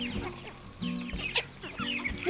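A few chickens on a small remote Greek island wildlife refuge cluck in short, close bursts with brief pauses between calls, and a sharper squawk rises at the very end.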